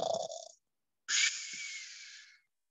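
A voice imitates the snoring of a sleeping man outdoors, a short breathy snort followed after a pause by one long, drawn-out rasping snore, close and fairly quiet.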